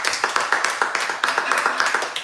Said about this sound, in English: Can we just clap?